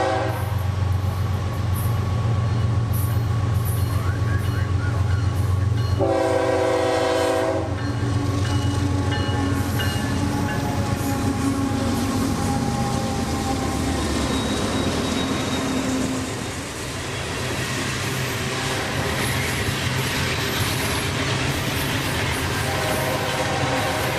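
A CSX freight train rumbles steadily past in Central Florida. Its horn sounds loudly for about two seconds, and wheel and wagon noise continues throughout.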